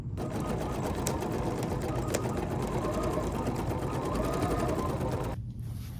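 A BERNINA embroidery machine with a large freearm stitches steadily and loudly at close range, a continuous fast mechanical whir that runs nearly six seconds before stopping abruptly.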